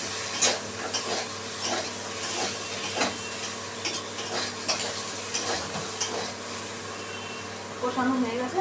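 Boyal fish curry with bori and cauliflower sizzles steadily in a pan, with irregular scraping and clinking as a spoon stirs the spices and fish.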